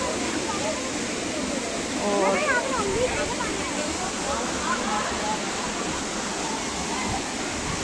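Loud rushing water of a mountain stream near Chakrata, a dense continuous roar with brief splashing, with a voice briefly heard over it.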